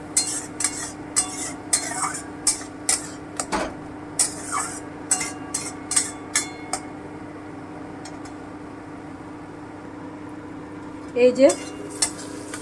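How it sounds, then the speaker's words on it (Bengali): Spice paste for a Piyali fish curry being stirred in a pan, with a run of sharp rhythmic spoon knocks against the metal over a low steady sizzle, then quieter frying and a brief clatter near the end; a voice speaks briefly. "এবারে আমি খুব ভালো করে এটাকে কষিয়ে নেব।"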